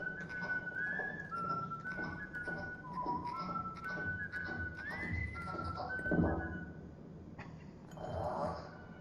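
Someone whistling a wandering tune of short sliding notes at moderate distance, with scattered clinks, soft knocks and low room noise around it, fading into a brief rustle at the end.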